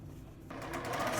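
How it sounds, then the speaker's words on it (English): A sewing machine stitches two fabric quilt triangles together. It starts quietly, then runs as a steady, close mechanical whir after a brief pause. "Now I'm gonna sew 2 of them together that do not have a marked line."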